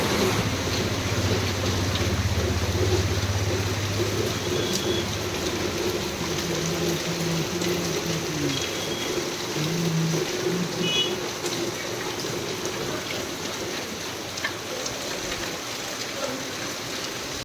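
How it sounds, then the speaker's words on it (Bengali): Heavy rain falls steadily in a street setting, a broad continuous wash of hissing water with faint low hum and occasional distant tones beneath it. "কীভাবে বৃষ্টি পড়ছে দেখো, প্রচুর বৃষ্টি হয়েছে"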